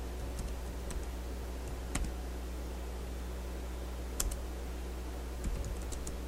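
Keystrokes on a computer keyboard while configuring a network in Packet Tracer: sparse, quiet clicks and taps at irregular intervals, some in quick pairs, over a faint steady electrical hum.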